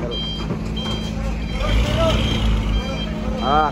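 A truck in the busy vehicle area of Merak port, with several reversing beeps chirping in short bursts over a steady low engine rumble and background commotion, people talking nearby.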